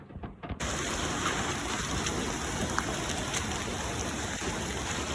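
Steady, dense rain pours down continuously at night on a hiking trail, a broad hiss with spattering drops and occasional louder patters, no voices.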